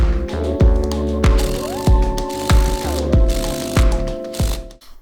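A ratchet clicks in quick, evenly spaced strokes while tightening the crank pulley bolts on a Honda Civic EK engine during a timing belt and water pump job, close and crisp with a faint mechanical whine between strokes.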